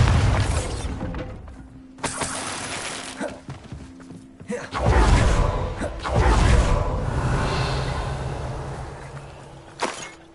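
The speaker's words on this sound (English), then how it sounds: "Bombarda!" Bombarda spells burst in Hogwarts Legacy, with several loud shattering crashes and heavy thuds separated by brief pauses, alongside whooshing spell effects.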